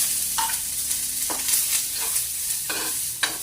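Garlic sautés in a pan, giving a steady sizzle broken by a few brief scrapes of a utensil, close and moderately loud.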